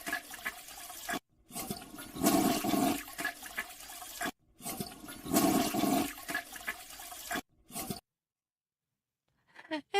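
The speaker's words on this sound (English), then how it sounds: "It's a toilet flushing sound." Toilet flushing sound effect, played three times in a row, each a loud gurgling rush of water cut off abruptly, then a stretch of near silence with a faint tail at the end.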